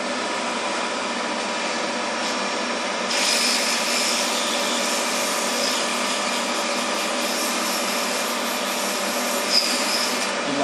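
Wooden crochet hook being sanded while spinning on a lathe: a steady loud whir of the motor, joined by a brighter hissing rub of sandpaper from about three seconds in, close and continuous, with no talking.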